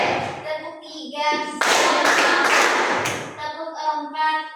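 Children clap hands together in a counted classroom exercise, a burst of dense claps in the middle with a voice and adult speech around it, close and fairly loud.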